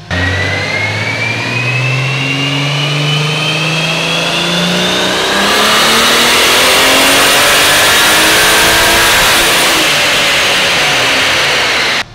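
Toyota AE86 engine on a dyno in fifth gear, revving loud and close in one long sustained pull that climbs steadily in pitch, with no voices over it.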